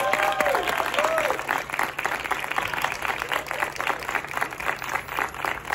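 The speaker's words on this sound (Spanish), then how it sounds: "Un fuerte aplauso para ella." An audience at a press conference for the musical The Wiz (El Mago) breaks into warm, sustained applause. A brief tonal whistle sounds at the start and a voice is faintly audible under the clapping.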